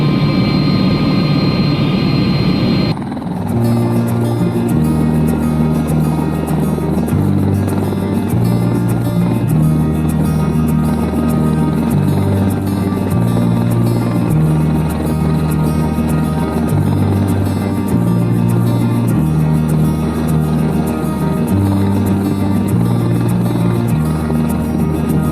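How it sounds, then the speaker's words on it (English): An Airbus H120 five-passenger helicopter driven by a 500 shaft horsepower jet engine flies with a loud, steady turbine whine and rhythmic low rotor thumping from inside the cabin, after a short break in the sound near the start. "It's an Airbus H120, 5 passengers, driven by a 500 shaft horsepower jet engine."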